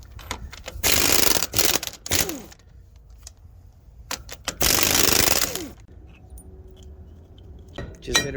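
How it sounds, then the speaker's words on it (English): A socket wrench fitted with a 15/16 socket loosens a nut on a Freightliner Cascadia wheel hub, giving two loud, close bursts of metallic ratcheting clatter separated by quieter gaps and scattered clinks. "We're going to be removing this nut right here."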